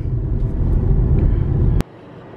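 A car drives along a road near Monument Valley, heard from inside as a loud, steady low rumble of engine and tires that cuts abruptly to a quieter hum near the end, with no talking.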